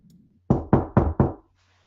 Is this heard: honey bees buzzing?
no